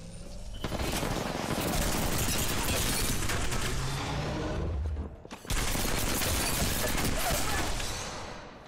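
Sustained automatic gunfire from an Apex Legends match, loud and dense bursts nearly continuous with a brief break midway, with a voice talking faintly underneath.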